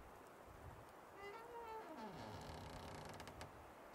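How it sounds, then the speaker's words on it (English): A door creaks slowly open with a drawn-out, bending groan over a steady background hiss, quiet and fairly close. "Will you please just open the door?"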